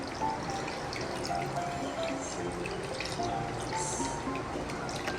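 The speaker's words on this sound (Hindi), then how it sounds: "इसमें डालेंगे पानी।" Water poured into a bowl of raw meat for rinsing, a steady close trickle and splash with small drips, running throughout with no talk.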